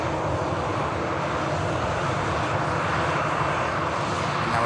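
Constant, loud engine roar of a British Airways jet departing for Heathrow, a dense, unbroken rush heard close and alone.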